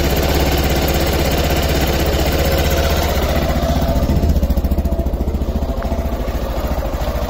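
A 2016 Zongshen Honley RX3 motorcycle's 250cc single-cylinder engine idles steadily up close from a cold start, a continuous low, throbbing rumble with even pulsing that holds at a constant level throughout.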